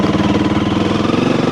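A Honda CRF300L motorcycle engine pulls in second gear off road, a loud, close, rapidly pulsing single-cylinder throb that holds steady throughout.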